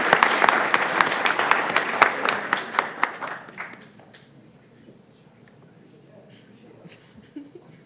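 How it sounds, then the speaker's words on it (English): A small school-board meeting audience applauds a Senior of the Month's family, crisp distinct claps for about four seconds that fade out into quiet room noise and faint shuffling. "Round of applause for them."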